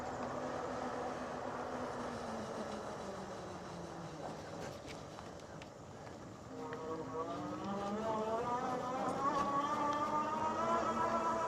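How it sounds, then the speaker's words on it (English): A Troxus Lynx 2-Up electric bike's motor whines while riding, a rising and falling tonal hum over steady road and wind rush, growing stronger toward the end. "you have your typical motor whine that all of the bikes typically will have, but is not obnoxiously loud"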